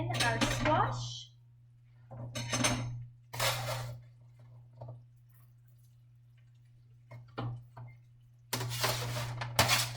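Roasted squash tumbles into a stew pot of kale and vegetables and gets stirred, producing a few short bursts of soft clinks, wet plops and scraping against a steady low hum, with quiet gaps between them.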